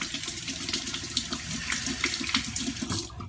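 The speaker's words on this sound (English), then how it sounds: "I just ran this Mach 3 under hot water and I feel nice heat" Hot tap water runs steadily into a sink as a Gillette Mach3 razor is rinsed beneath it, a close, continuous splashing hiss with small gurgles throughout and no talking.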